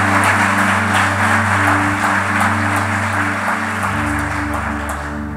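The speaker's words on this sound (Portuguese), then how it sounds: "Você pode aplaudir o Senhor por isso" A church congregation at a conference service claps steadily, over sustained organ or keyboard chords, the applause gradually thinning toward the end.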